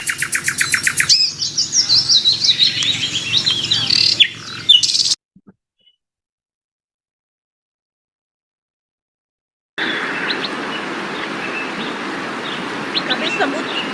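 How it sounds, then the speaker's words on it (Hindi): Small birds chirp and tweet in dense overlapping calls, loud and close, with a gap of silence midway before a busy chorus of chirps resumes over a soft background hiss. "इन चिड़ियों की चहचहाट में भी एक कितना अच्छा प्यारा"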